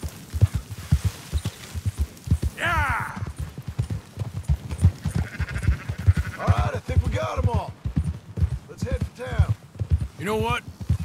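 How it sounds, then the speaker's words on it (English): Sheep bleat in Red Dead Redemption 2, several wavering cries rising over steady horse hoof clip-clops, with voices talking through the scene. "Marston, why don't you leave the sheep to me?"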